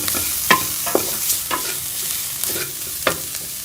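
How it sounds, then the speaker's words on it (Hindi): A spatula scrapes and stirs spices into chana samosa filling in a frying pan over a soft sizzle, with several distinct scraping strokes close by. "ऐसे भी इसी तरह से मिक्स कर लेंगे मसालों को।"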